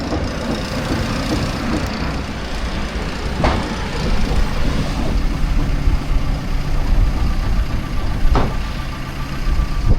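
A crane truck with outriggers raised drives slowly closer to a house on a roof lift job, its loud, steady diesel rumble close and continuous, with a couple of faint clanks.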